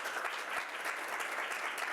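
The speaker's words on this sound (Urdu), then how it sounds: "برائے مہربانی ایسے شخص کے لیے جو گواہیاں ہوتی ہیں ان کے لیے تالی بجا دیا" A church congregation at a Sunday service in Sahiwal, Pakistan, clapping together in steady, dense applause that sounds moderately distant and fills the room without a break.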